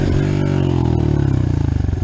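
Close and loud, a motorcycle engine revs hard in second gear while the rider pulls a wheelie on dirt trails, a strained, pulsing drone that wavers in pitch.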